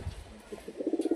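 Flying pigeons kept in a small loft coo in soft repeated throaty pulses, nearby and fairly quiet, with faint rustling before the cooing builds into a steady rhythmic series.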